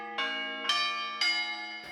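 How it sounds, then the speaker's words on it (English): Church bells ring out three evenly spaced strikes, each one bright and resonant with a long ringing decay before the next. "Now to the art of bell ringing."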